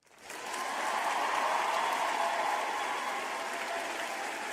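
A crowd's applause rises quickly from silence into a full, even roar of clapping that holds steadily, sounding like a canned applause effect rather than a live room.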